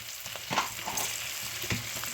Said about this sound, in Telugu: ఇందాకనే మనం పసుపు వేసేసుకున్నాం కాబట్టి ఇది బాగా వేగాలి